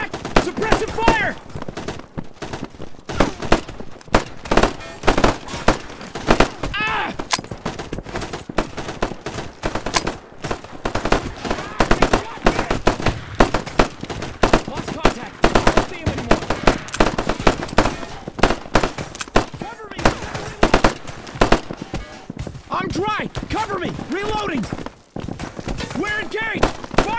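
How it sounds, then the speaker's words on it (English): Sustained machine gun and rifle fire as suppressive fire in a combat game, dense rapid cracking bursts running almost without pause, loud and close, with shouted voices mixed in. "Suppressive fire!"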